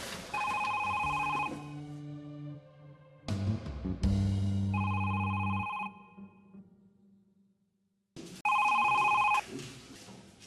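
A telephone rings in a Sinhala teledrama scene, several loud bursts of a bell-like tone separated by gaps, with other musical or electronic sounds between the rings and no voices.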